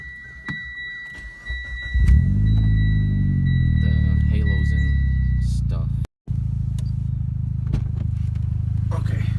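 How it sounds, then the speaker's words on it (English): A Mitsubishi Evo engine cranks and catches, then settles into a loud, steady, deep idle with a brief dropout partway through. Faint background sounds precede the start. "Let me turn the radio off and turn the car on"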